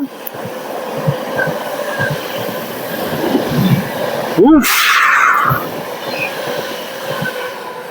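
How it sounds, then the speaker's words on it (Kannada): A fast train rushes past a station platform with a loud rising roar and a sharp squeal of wheels before fading back into rumbling ambient noise. "ಬೇರೆ ಟ್ರೈನ್ ಪಾಸ್ ಆಯ್ತು"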